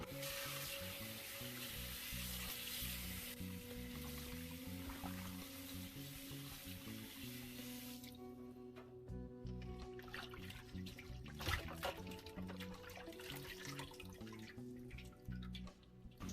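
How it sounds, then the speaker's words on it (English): Raw tilapia fish getting a final rinse under running water, a faint, steady wash and trickle that grows patchier with scattered drips toward the end, quiet in the background. "Then I'm going to do a final rinse."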